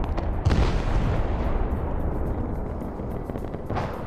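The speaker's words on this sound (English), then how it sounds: "So when you do an artillery strike, you always start it on the outside, away from the players" Artillery strike in the video game Arma 3 SOG Prairie Fire, with a deep low rumble of distant shelling and one heavier boom early on, under a continuous loud roar.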